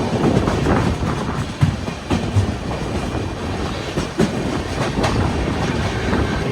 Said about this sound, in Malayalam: ജബൽപൂർ സോംനാഥ് എക്സ്പ്രസ് ആണ് ഈ വന്നുകൊണ്ടിരിക്കുന്നത്.